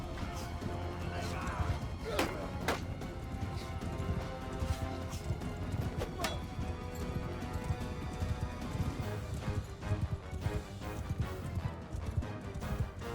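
Cavalry horses move in a Mount & Blade 2: Bannerlord battle, a dense clatter of hooves under a steady roar of battle noise, with an occasional whinny.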